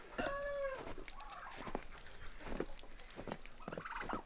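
Turkeys gobble in rapid warbling bursts, several calls overlapping at close to moderate distance against a faint outdoor background.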